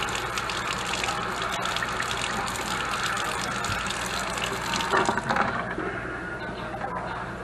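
A kitchen tap runs into a dirty sink at low pressure, a steady close trickling splash that continues unbroken, then thins slightly toward the end.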